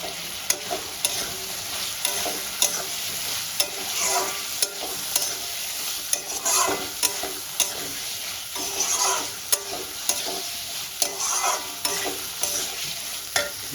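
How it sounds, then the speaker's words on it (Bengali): Fried potatoes stirred with spice masala in a hot pan, loud continuous sizzling broken by regular scraping strokes of the spoon roughly every second, heard up close with no talking. "আমি ভেজে রাখা আলুটাও মশলার সঙ্গে দিয়ে কষাতে থাকবো।"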